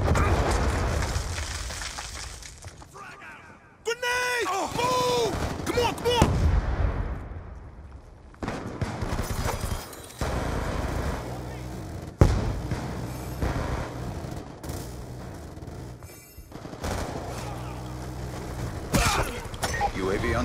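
Hellstorm missile strike in the Black Ops 2 multiplayer video game: heavy explosive booms and rumbling bursts with gunfire, mixed with game announcer voice lines and dense battle noise.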